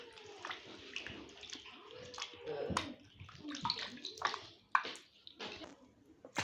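Raw chicken being washed by hand in a bowl of water, with repeated sloshes, splashes and drips at close range and a few sharper splashes, under a faint voice.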